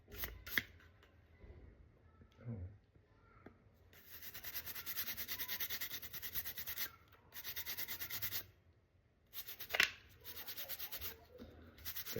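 A toothbrush scrubs a motorcycle pistol grip in repeated bursts of dry, rhythmic scratchy brushing, close up and moderately loud, with short pauses and a few handling knocks between strokes.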